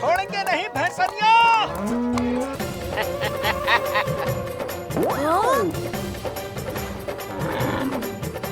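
A buffalo moos with drawn-out, bending calls in a Hindi TV comedy scene, mixed with voices, jingling and busy background sounds throughout.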